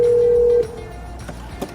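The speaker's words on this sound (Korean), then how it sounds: "휴대전화로 전화 거는 중" A single steady electronic phone dialing tone from a 2015 BMW 3 Series GT's Apple CarPlay system sounds loudly for about half a second, then cuts off, leaving quiet room noise.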